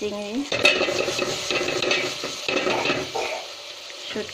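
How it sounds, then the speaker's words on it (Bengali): Onions and green chilies frying in white oil, a busy close sizzle with repeated spatula scrapes and stirring clatter against the pan, fading quieter toward the end, no talking. "আমি সাদা তেলে পেঁয়াজ কাঁচামরিচ ভেজে নিতেছি।"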